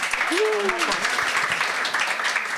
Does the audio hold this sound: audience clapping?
yes